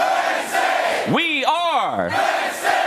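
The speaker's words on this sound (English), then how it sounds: "That was Harry Douglas getting the crowd loud here." Crowd at a college football broadcast set before Oregon v. Penn State, Bama v. UGA and LSU v. Ole Miss games, a steady loud roar throughout, with a bright rising and falling whoop or cry swelling out above it midway.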